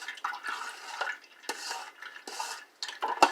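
A utensil scrapes pulp inside a cold press juicer in a series of short, uneven scratching strokes with brief pauses between them, close and moderately loud, with a faint clink near the end.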